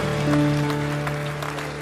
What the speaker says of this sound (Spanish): Póngase de pie y aplauda al Señor